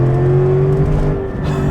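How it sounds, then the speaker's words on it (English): A Mercedes E55 AMG with a modified transmission downshifts and pulls hard from around 45 mph on a forest preserve road, its engine a loud, steady close-up drone that swells briefly near the end. "It just, bam, downshifts right into the proper gear, and this thing takes off."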